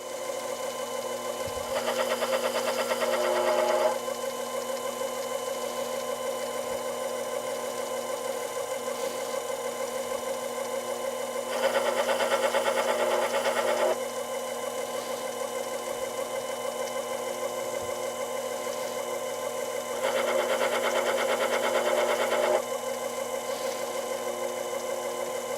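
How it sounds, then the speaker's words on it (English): A metal lathe cuts a very shallow V-groove into the face of a part. A steady motor hum runs throughout, with three louder, rougher cutting passes spaced evenly across it. "we're just going to put a shallow V-groove in the face of this part"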